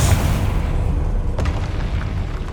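A Confringo spell explodes in Hogwarts Legacy: a loud, close boom opens the moment, then its rumble trails off and a brief crack follows shortly after.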